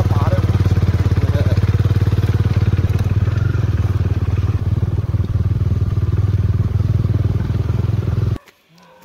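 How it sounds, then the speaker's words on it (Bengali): Motorcycle riding through light rain with riders holding umbrellas, its engine a loud, steady, close drone that runs throughout before cutting off abruptly near the end. "তাই দেখো আমরা মাথায় এখনও ছাতা নিয়ে বাইকে করে যাচ্ছি।"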